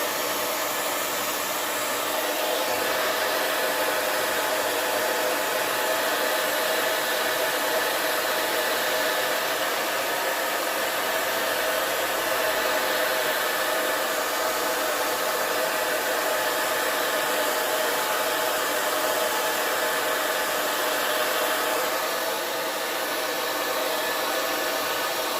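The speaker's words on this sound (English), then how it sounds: "Now what you do is you take your blow dryer." A blow dryer runs steadily on a pixie-cut quickweave, a loud, close, continuous airy whir with slight shifts in tone as it moves over the hair, no voices.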